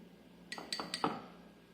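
A spoon taps against a glass or jar while honey is measured out, four light metallic clinks in quick succession, close and fairly soft, with nobody talking.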